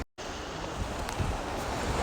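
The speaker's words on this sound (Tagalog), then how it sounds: "Medyo may kalakasan ng alon. Yan. Malakas ang alon." Loud, continuous roar of strong surf at a beach resort with wind buffeting the microphone, the waves crashing close by without a break after a brief dropout at the start.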